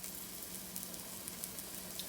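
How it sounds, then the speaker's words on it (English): A burger patty and broccoli fry together in a home pan, giving a soft, steady sizzle with faint crackles, quiet and even throughout with no voices. "Got a burger patty going, and I've got some broccoli going."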